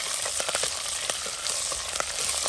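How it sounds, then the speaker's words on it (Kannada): Mustard seeds, cumin, curry leaves, garlic and green chillies sizzle steadily in hot oil for a kokum rasam tempering, with sharp seed pops and crackles bursting through a dense continuous hiss, close and fairly loud. "ಸಾಸಿವೆ ಹೊಡಿತಾ ಉಂಟು."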